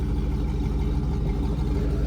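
A cammed single-cab Chevrolet Silverado on stock headers, running nearly straight piped with its exhaust valves open, idles with a steady, loping low rumble that stays moderately loud and close throughout, with no talking.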